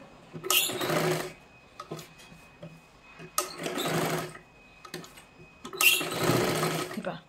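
Sewing machine stitching a size 40 katori blouse, three steady whirring runs of a couple of seconds each, separated by short pauses, close and clear with no talk over it.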